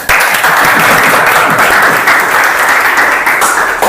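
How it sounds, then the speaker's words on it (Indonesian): Loud, dense applause from a group of students in a classroom session, sustained and even for a few seconds without a break. "kita tepuk tangan untuk kita semua"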